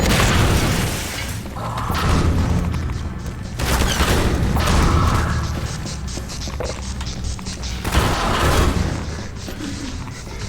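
Grenade explosions in Half-Life 2 Episode 1, three heavy booming blasts spaced a few seconds apart, each followed by rumbling debris and mechanical clatter, loud and close.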